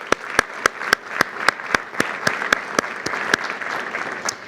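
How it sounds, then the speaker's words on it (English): Audience applause after a homeland security address: a brief round of clapping with distinct sharp nearby claps over a denser crowd patter, lasting several seconds. "Let's give them a quick round of applause."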